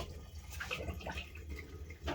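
Liquid pouring for homemade mead, a soft continuous trickling and splashing close by that spills onto a towel, steady for about two seconds with no voices.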